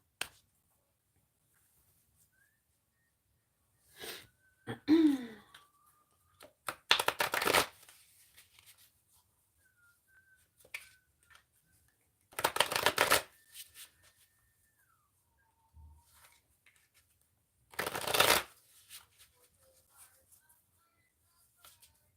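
A deck of Rider Waite tarot cards is riffle-shuffled in three loud, close bursts spaced several seconds apart, with smaller card taps and handling sounds between them and otherwise near silence.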